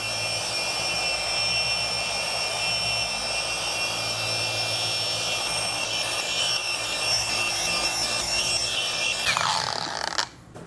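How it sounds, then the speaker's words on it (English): A cordless SPTA polisher runs on its low speed setting, working a ceramic coating high spot on car paint. It makes a steady high motor whine with a soft buffing hiss, then winds down and stops just before the end. "And I have it set on low, but any other polisher, speed 4 should do it"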